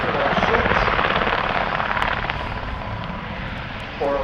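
Loud rotor and engine noise from a large helicopter drones on steadily at an airshow in Southport, filling the scene without letup.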